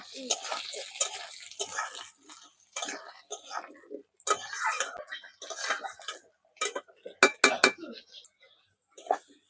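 Potatoes being stirred in a pan with ground spice paste, short bursts of metallic scraping and clatter separated by brief pauses, fairly close.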